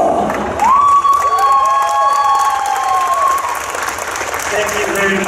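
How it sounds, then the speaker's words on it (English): An audience at a Comic Con Q&A in Antwerp breaks into sustained, dense applause and cheering. A whooping voice rises above the crowd, and the noise holds steady from start to finish. "Let's give you a nice round of applause, ladies and gentlemen"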